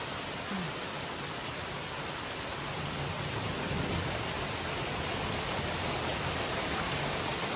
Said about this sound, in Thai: ฝนตกหนักมากเลยนะ